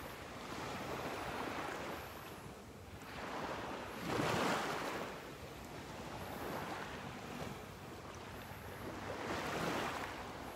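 Ocean surf at Delnor-Wiggins Pass State Park beach washing in steady broad swells, rising in louder surges about every few seconds with a constant wind-like hiss between, no voices.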